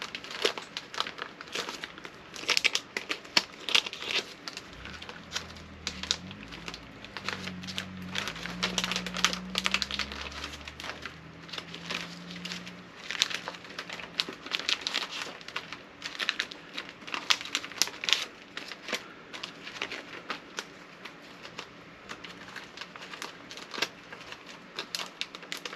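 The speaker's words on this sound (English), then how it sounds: "We'll take all the money out of this, and then we'll count it, and we will stuff it in the envelope that it goes in." Paper bills are handled, counted and stuffed into envelopes, giving a long run of close crinkling, rustling and flicking with a brief low murmur partway through.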